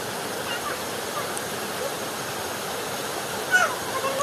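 A waterfall gives off a steady, close, broadband rush of falling water that holds evenly throughout, with a brief louder splash near the end.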